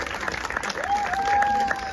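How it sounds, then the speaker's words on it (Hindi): Audience applause at a Durga Puja festival stage in Noida, greeting a student performance; steady clapping fills the short stretch, with a faint sustained tone rising through the middle. "तो प्लीज तालियां बजाइएगा हमारे बच्चों के लिए"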